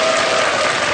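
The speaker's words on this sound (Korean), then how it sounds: "다시 한 박수 부탁드립니다" Studio audience on a Korean morning news talk show breaks into brief, full applause, a dense wash of clapping heard alone.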